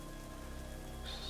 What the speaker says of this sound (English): So we are using this preset for raining